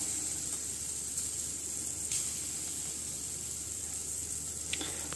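Buckwheat pancake batter sizzles steadily in a medium frying pan, a constant close hiss with faint occasional pops and no talking.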